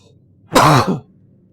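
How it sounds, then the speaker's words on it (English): A single short throat clearing with a cough, about half a second long, loud and close against near silence. "Every cough you do"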